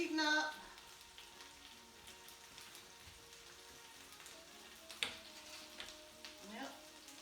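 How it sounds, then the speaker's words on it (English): Bacon frying on a hot griddle, a quiet continuous sizzle with scattered pops and crackles, a brief louder clatter at the start, and occasional soft handling noises. "We're going to get the bacon started."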